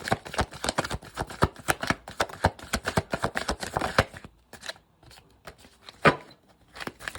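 Intuition deck cards shuffled by hand in a tarot-style reading, a dense run of crisp riffling flicks for about four seconds, then a few sparse, separate card slaps and taps, close up with no talking.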